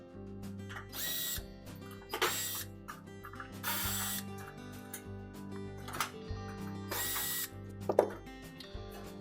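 Cordless drill or screwdriver backing screws out of the lower back panel of a Frigidaire range, several short whirring bursts with pauses between, close and fairly loud, with ratcheting clicks.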